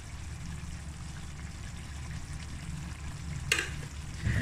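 Pumpkin curry with mango powder being stirred in a pan, a low steady sizzle with soft scraping, one sharp clink of the spoon partway through and a louder scrape at the end.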